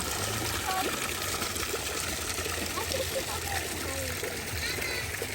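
Spring water flows and splashes continuously in a mountain setting in Chechnya, a steady broadband rush filling the scene, with a voice faintly present beneath it.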